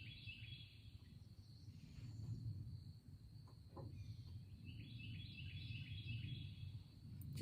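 Faint birdsong drifts across Okefenokee Swamp: repeated high chirping phrases over a steady insect-like drone and low background rumble, distant and quiet with no voices.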